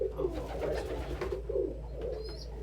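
Pet pigeons or doves coo softly and repeatedly up close during a training session, low throaty murmurs over a steady background hum, with a brief higher chirp near the end.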